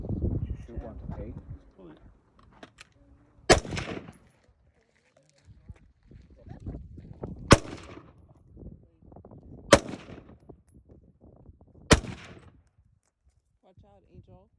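Four sharp, loud rifle shots at an outdoor shooting range, spaced a few seconds apart, with people talking between them.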